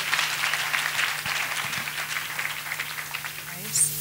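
A church congregation claps together, a continuous patter of many hands with voices calling out over it and a faint steady hum underneath.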